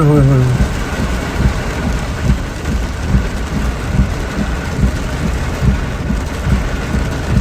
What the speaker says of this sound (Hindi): कोई हल्की फुल्की नहीं हो रही जी, ये तो बहुत अन्यवा बारिश हो गई है जी।